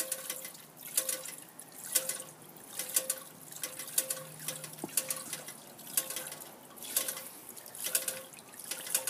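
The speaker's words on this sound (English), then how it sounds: "my cats think that it's the absolute most perfect water fountain" A small, dopey-looking garden bird fountain trickling and dripping steadily, with soft, faint splashes in a loose repeating rhythm and no talking.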